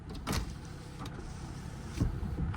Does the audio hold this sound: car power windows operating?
yes